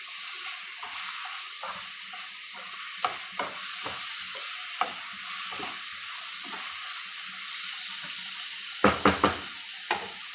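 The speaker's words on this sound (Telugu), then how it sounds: "ఇది వేగిపోయిన దాంట్లో కట్ చేసుకున్న ఒక 4 టమాటాలు," Chopped tomatoes frying in a pan with roasted moong dal for a pesara pappu curry, a steady hiss of sizzling oil with scattered stirring clinks and a cluster of louder spoon knocks near the end, no talk.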